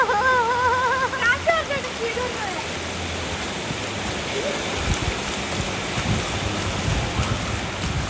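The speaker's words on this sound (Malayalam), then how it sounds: "നല്ല മഴ കേട്ടാ." Heavy rain pours steadily during a rainy day in Oman, a dense continuous wash of noise that holds throughout, with a voice and some tonal sound briefly heard over it near the start.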